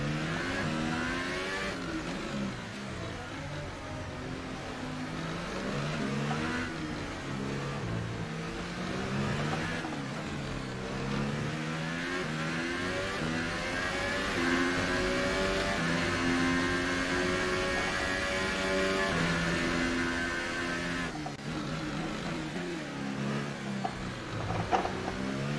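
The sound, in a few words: race car engine in F1 2018 video game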